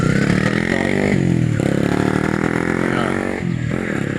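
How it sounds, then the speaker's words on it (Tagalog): Motorcycle engines drone steadily as bikes pass along a busy village road in Tigaon, Philippines, a continuous loud rumble with a slight dip partway through and no voices. "Hindi mo mabilang na ang mga motor dito."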